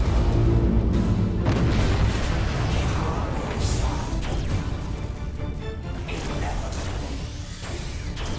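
Torpedo explosions in the space battle game Battlefleet Gothic Armada 2, a loud barrage of deep booms and crashing blasts piling over one another, with heavy rumbling impacts that run almost without a break.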